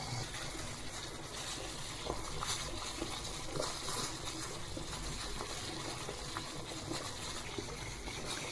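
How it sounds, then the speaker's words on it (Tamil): Water with ginger boils in a pot for black tea, a steady, dense bubbling hiss that stays even and close throughout, with no talking. "இப்போது 2 minutes தண்ணி நல்லா கொதிச்சிடுச்சு."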